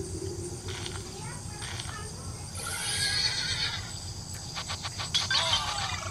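A horse neighs and whinnies loudly in the game Horse Simulator, with hoof clatter and other game effects, while someone talks over it.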